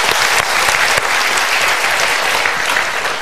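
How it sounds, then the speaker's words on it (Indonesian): A seminar audience breaks into sustained, dense applause, many hands clapping together at a steady level for the whole few seconds. "Kita berikan tepuk tangan lagi."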